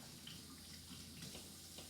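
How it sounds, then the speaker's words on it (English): A tap runs warm water into a sink for hand washing with soap, a faint, steady hiss of flowing water with no voices. "Let me wash my hands with soap and water first."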